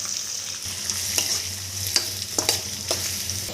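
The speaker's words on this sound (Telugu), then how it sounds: "తర్వాత పచ్చిమిర్చి ఆనియన్స్ యాడ్ చేస్తున్నాం" Green chillies and a large chopped onion sizzling in oil with curry leaves for a drumstick curry, steady frying hiss with several sharp stirring scrapes and clinks of the spoon against the pan, close up and without speech.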